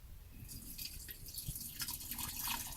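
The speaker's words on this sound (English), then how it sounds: "all you got to do now is just pour water in" Cold water splashes and trickles steadily into a coffee filter, with broadband dripping and pouring texture throughout and some low rumble underneath.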